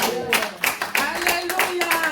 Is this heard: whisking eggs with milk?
no